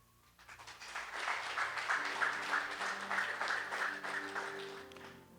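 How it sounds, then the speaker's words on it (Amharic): A church congregation at a worship service claps together. The applause fades in, holds at a steady moderate level for several seconds and dies away, with a low organ-like drone underneath. "ከገባችሁ አጨብጭቡ"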